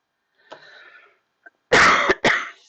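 Harsh, explosive coughs from a woman, two loud bursts close together near the end, preceded by a softer throat sound and a brief click, with no talking.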